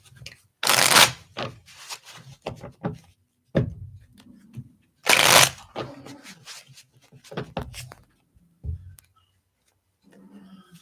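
A deck of cards for a remote reading is shuffled in several bursts, two loud riffles standing out among softer handling clicks and rustles, close and with no voices.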